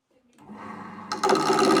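A wood turning lathe spins up and a gouge bites into a length of wood shaping two cannon axles, rising from a quiet motor hum to a loud, gritty cutting rasp in the final half second.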